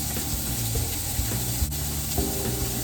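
Steak sears in a hot pan with a steady, close, broadband sizzle and hiss that stays even across the short stretch, with no talking.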